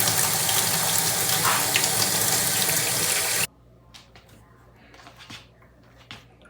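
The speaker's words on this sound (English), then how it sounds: "turn on the water just to show you that the water still goes down" Water runs from a bathtub tap and gushes down the drain fitted with a hair strainer, a loud steady splash that cuts off abruptly partway through, leaving quiet trickles and drips.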